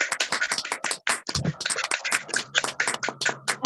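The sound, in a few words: audience applauding in an online video call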